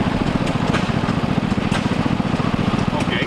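A Continental Model U engine runs at a steam show, a steady rapid chugging putter with an even rhythm, close and continuous, while people talk faintly around it.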